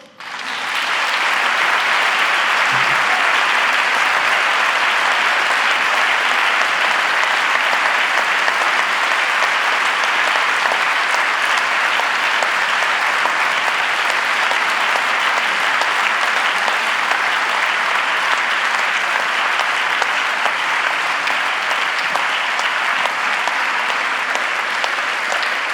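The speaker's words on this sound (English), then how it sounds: "maybe one more round of applause." A packed hall applauds at an honorary doctorate ceremony at VUB: loud, even, unbroken clapping from many hands goes on for over twenty-five seconds, with no voices over it.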